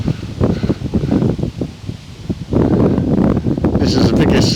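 Gusts of wind at a cemetery buffet the microphone with loud, uneven low rumbling. They ease midway, then strengthen again, and a faint hiss from wind in leaves or grass runs underneath.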